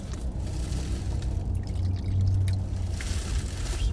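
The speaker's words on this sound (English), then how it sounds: "Dottie, you want some water? You thirsty?" Water poured out for a dog during a stop on a drive into Quartzsite, Arizona, a steady close trickle and splash over a low rumbling background, with no talking.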